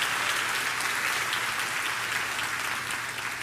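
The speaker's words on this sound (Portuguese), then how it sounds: "Dá uma salva de palmas ao Senhor, querido." A church congregation breaks into sustained, dense applause, loud and steady throughout, with no voices standing out above the clapping.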